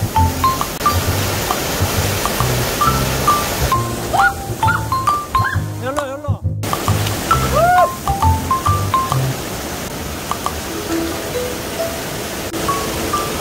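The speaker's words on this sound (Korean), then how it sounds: "자, 여기가 구룡폭포입니다." Guryong waterfall on Daewoonsan in Ulsan, a broad steady roar of falling water filling the scene, with people talking over it and a brief dropout midway.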